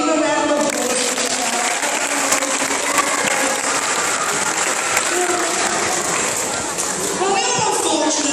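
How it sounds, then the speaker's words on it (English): Crowd claps and cheers at a sea lion show, a dense, loud, sustained wash of applause across the whole stretch, with children's voices and shouts mixed in. "give them a round of applause."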